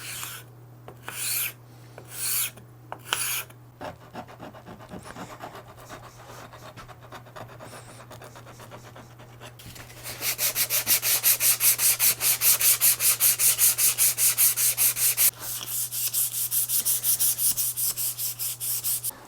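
Hand scrapers shave wood from the points of a guitar neck in a handmade build. Short, separate scraping strokes come first, followed by a long run of steady, rhythmic rasping, close and with no voices.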